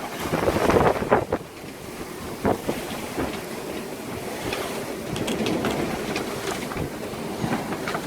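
Gusty wind of about 20 knots buffeting a microphone over rushing water and hull noise, a sailboat moving steadily through choppy sea.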